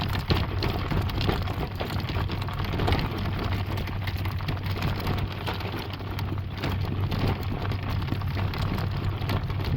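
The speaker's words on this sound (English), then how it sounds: "What you're hearing is the tires going over tractor tracks, which come out as washboards when you're driving a carriage" Continuous rattling and rumbling of horse-drawn carriage wheels bumping over washboard tractor ruts, a dense steady clatter with low droning underneath, no voices.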